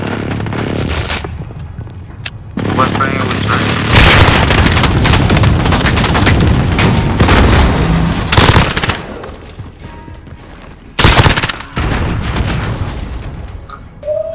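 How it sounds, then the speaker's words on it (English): Heavy booms and rolling blasts from a precision airstrike in Call of Duty Modern Warfare, layered with dense gunfire bursts, loud and near through most of the stretch, with brief quieter gaps. "friendly precision airstrike"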